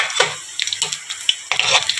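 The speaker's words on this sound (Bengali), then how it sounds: "তো চলো তেল আমার হয়ে গেছে, আমি মশলাটা ফোড়নটা দিয়ে নিই।" Whole spices hit hot sunflower oil in a pan, crackling and sizzling in bright bursts with a few sharp pops and light stirring clatter, close and fairly loud.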